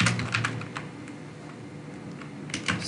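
Keys clatter on a computer keyboard in quick bursts while someone types a short phrase into an online translator, close and fairly crisp, with a brief pause in the middle and no talking.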